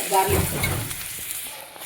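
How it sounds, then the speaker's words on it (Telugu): Onions and garlic frying in butter in a hot pan, a steady close sizzle with some stirring noise early on, fading slightly toward the end. "గార్లిక్ ఫ్రై అవ్వాలి, బాగా మంచి కొంచెం ఫ్రై అవుతే ఫ్లేవర్ మంచిగా బయటకు వస్తుంది దానికి."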